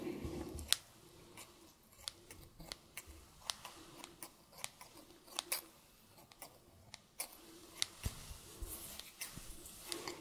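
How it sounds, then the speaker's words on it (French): Scissors snip in crisp, irregular clicks, close and quiet, repeating steadily against a soft background hiss. "il y a aussi les bruits qu'elle utilise, comme les bruits des ciseaux"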